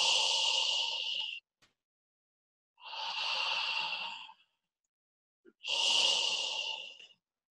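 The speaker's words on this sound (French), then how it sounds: "on peut dire que c'est la respiration Dark Vador" Three long breaths drawn through the soft palate in a raspy, Darth Vader-like style, each lasting over a second and separated by silent pauses, close to the microphone with no speech.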